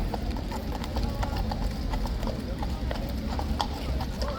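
Police horses walk past with steady, overlapping clip-clopping hooves on pavement, set against a busy outdoor crowd murmur with people chatting nearby.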